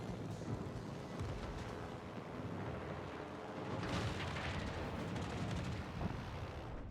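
Naval gunfire from warships, including a Cleveland cruiser, in a World of Warships Legends carrier battle: a steady distant rumble of cannon blasts and booming surf-like noise, faint and continuous with swells of louder firing, no talk.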